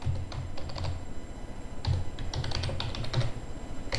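Rapid, uneven keystrokes on a computer keyboard as Python code is typed into a Python shell, close and steady with short bursts and pauses, no talking.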